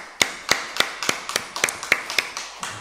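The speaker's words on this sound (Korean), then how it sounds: "우리 목자들 수고하시라 박수로 한번 격려합시다" A church congregation claps together in encouragement of its group leaders, roughly a dozen fairly even beats in steady rhythm, sounding close and sparse, like a handful of hands rather than a large crowd.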